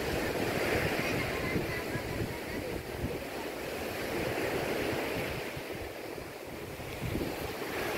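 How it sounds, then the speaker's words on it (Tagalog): Loud, continuous roar of strong surf crashing, with heavy wind rumble buffeting the microphone throughout. "Kaya lang, ang lakas ng alon."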